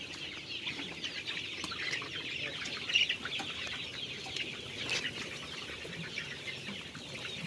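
Hens clucking on an egg-laying chicken farm with two-month-old birds, a dense chorus of soft clucks and occasional sharper squawks close by, with faint wing flaps and no voices.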